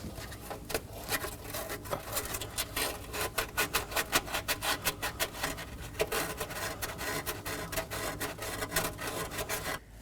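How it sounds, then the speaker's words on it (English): Fine grit sandpaper is rubbed by hand over the metal mating surface for an O2 sensor on a 2014-2023 Ford Transit Connect 2.5L L4, making close, steady back-and-forth rasping strokes in a quick rhythm with no talking. "I'm going to clean our mating surface using some sandpaper."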